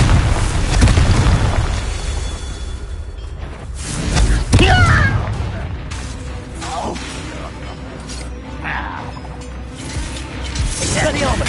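Confringo blasting spell exploding in a Harry Potter video game, a heavy boom rising out of a loud, busy mix of mechanical clatter and rumble, with voices talking throughout.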